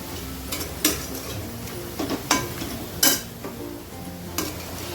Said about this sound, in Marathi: आणि चांगलं परतून घ्यायचं, म्हणजे कांदा नरम पडेल.